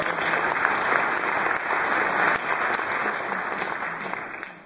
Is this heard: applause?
yes